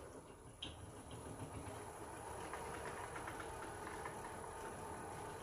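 A wood lathe spins at 449 RPM while a Thompson bowl gouge turns a green wood bowl, a faint, steady low drone with a constant high whine and light scraping texture, heard alone and at a distance.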